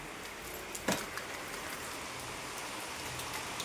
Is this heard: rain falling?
yes